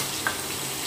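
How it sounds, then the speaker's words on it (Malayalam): Crushed garlic, shallots and ginger sizzle in a hot pan for a fish curry, a steady close frying hiss with no talk. "ഇത് ചൂടായി ചട്ടി വെളുത്തുള്ളി ചുമന്നുള്ളി ഇഞ്ചി ചതച്ചത് ഇതിലേക്ക് ചേർക്കണം."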